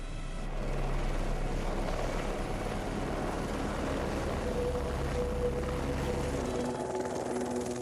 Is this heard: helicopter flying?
yes